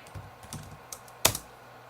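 A few light keystrokes on a computer keyboard while working in AutoCAD, ending with a sharper, louder press of the Enter key, close and isolated.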